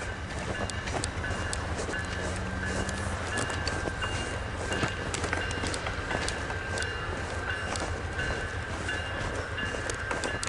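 VIA Rail passenger trains roll toward Cambria, a steady broadband rumble of moving railcars with faint rhythmic wheel clicks and a thin high whine running throughout, no voices.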